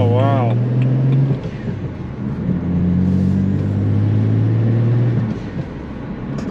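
A car accelerates hard through the gears, its engine note rising and dropping as it shifts up, loud and close from inside the cabin with a low rumble underneath.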